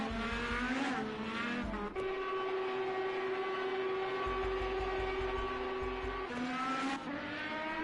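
Indy race cars in a racing game scream down a straight, sustained engine whine with pitch shifts as they pass, loud and continuous with no talk.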